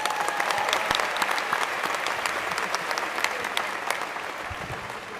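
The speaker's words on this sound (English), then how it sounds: "so let's give him a round of applause" An audience at a high school commencement claps in sustained, dense applause that holds steady and tapers slightly toward the end.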